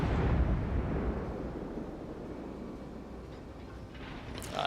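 Heavy naval gun shots from a warship battle game, a loud booming blast at the start that rumbles and decays for several seconds, with another sharp burst near the end.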